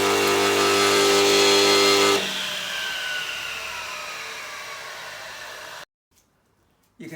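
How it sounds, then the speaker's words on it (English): Elu TGS 172 combination saw cutting grooves and rebates in wood, a loud steady motor whine for two seconds, then falling off as the blade spins down before it goes quiet. "So you can cut nice grooves, but you can also cut rebates."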